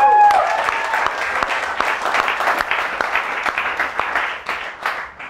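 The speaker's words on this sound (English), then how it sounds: "So let's give her a round of applause" Applause from a demo day audience at a coding bootcamp in Bali, dense steady clapping filling the room that thins out slightly toward the end.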